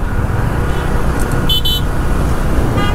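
A single short car horn toot sounds midway through continuous road traffic rumble on the road from Uttara to Khilkhet in Dhaka, a signed no-horn zone. The honk is brief and moderately distant over the steady engine noise.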